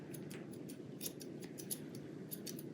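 Scissors snipping hair from a dog's foot pad, a rapid run of small crisp clicks at an uneven rhythm, close but quiet over a low steady background hum.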